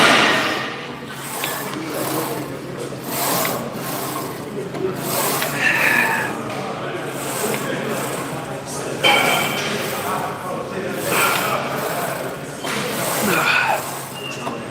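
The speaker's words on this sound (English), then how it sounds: "But we're gonna do this row machine here." A rowing machine at a gym being pulled in a steady, repeating rhythm of rasping, whirring strokes, with gym background noise and some talk.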